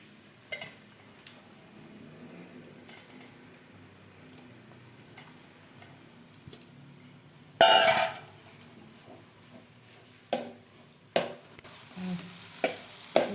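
Prawn fried rice is stirred in a hot pan. A soft sizzle runs under sharp metallic scrapes and clanks of the spatula, which come louder and more often toward the end.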